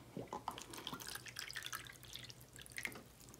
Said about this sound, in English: I'm gonna put some water in each one of these.